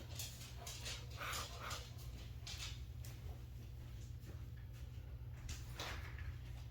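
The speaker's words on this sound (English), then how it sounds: "my dogs are very noisy at inappropriate times" Dogs bark indoors, quiet and somewhat distant: a handful of short, scattered yelps over a steady low hum.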